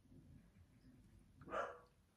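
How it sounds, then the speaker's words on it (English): A dog barks outside, heard as one short, muffled bark at a distance, faint against a quiet indoor room. "Oh, that's Mabel barking outside"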